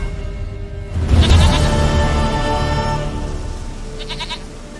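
A goat in The Witcher 3 gives a clear, loud bleat about a second in, and a second shorter bleat follows near the end over a steady game backdrop.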